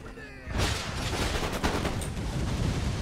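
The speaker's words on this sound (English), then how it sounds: "Oh god, hand mortars." Musket volleys and hand mortars crackle in an Empire Total War battle, a dense, loud barrage of overlapping shots that bursts in after a brief lull and rolls on continuously.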